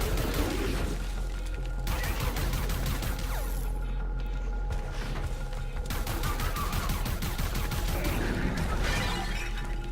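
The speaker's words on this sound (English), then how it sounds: "Now she's shooting." Gunfire in the Far Cry 5 custom map Bradbury Canyon, heard as a dense wash of rapid shots and crashing impacts layered over steady game noise, loud and continuous for the whole stretch with no talk.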